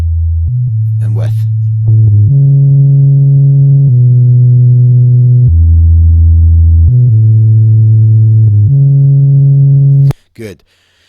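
A deep synth bass plays a sequence of held notes, buzzy and harmonically rich from distortion, loud and alone, ending with a brief voice.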